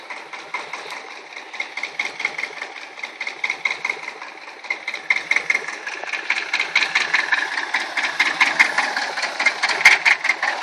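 A tractor engine runs steadily at idle, its rapid, even mechanical chugging at moderate distance growing slightly louder partway through, with no voices over it.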